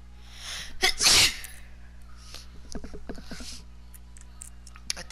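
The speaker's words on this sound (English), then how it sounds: "I think I sneezed already twice." One loud, sudden sneeze bursts close to the microphone. Afterward come faint clicks, creaks and soft mechanical sounds from a quiet room.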